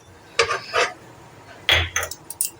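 Fried cashews and raisins go into a bowl with a few short, sharp clinks and clatters of a spoon against the dish, separated by brief pauses.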